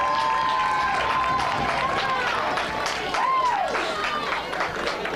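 Crowd murmur and cheering fill the stands at an 8th grade all-star football game between San Diego and Arizona near halftime, a steady dense buzz with whistle-like tones and voices throughout.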